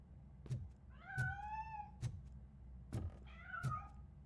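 A cat meows twice in the video game RoboCop: Rogue City, two clear rising-falling meows between soft, heavy thuds of footsteps, close and fairly quiet, no talk.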